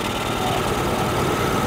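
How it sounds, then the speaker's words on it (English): A Cummins Onan QG5500 generator engine runs close by with a steady, rough, low rumbling drone, heard alone without voices. "So it's like backfiring,"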